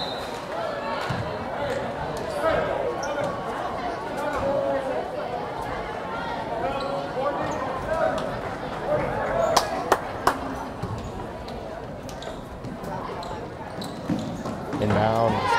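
A basketball bounces on the court during a girls' high school game between Southwestern Heights and Guymon. Repeated dribble thumps and sharp sneaker squeaks sit under continuous play-by-play commentary and crowd noise in a busy gym.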